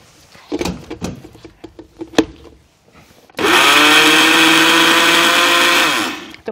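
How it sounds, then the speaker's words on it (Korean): After some clinking and handling sounds, a blender whirs loudly and steadily for about three seconds, grinding salted shrimp brine for kimchi, then spins down. "이렇게 해서 믹서에 갈아주시면 됩니다. 예, 갈아보겠습니다."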